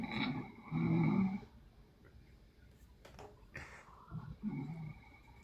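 Someone sleeping snores in rough, rumbling breaths, a couple of loud drawn-out snores separated by quieter pauses, close and without talk.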